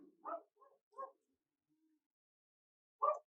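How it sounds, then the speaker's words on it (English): A pet dog barks outside in short, separate muffled yaps, a few close together and then one more after a pause, set against an otherwise quiet room. "Sorry if you can hear my dog barking"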